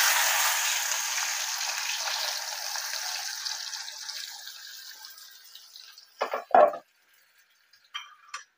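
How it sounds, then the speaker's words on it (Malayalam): Ivy gourd deep frying in smoking-hot oil: a loud, steady broadband sizzle that gradually dies down over several seconds, followed by a few sharp clacks and a short burst near the end. "ഇത് നമ്മളൊന്ന് നന്നായിട്ടൊന്ന് ഡീപ് ഫ്രൈ ചെയ്തെടുക്കാൻ പോകട്ടോ"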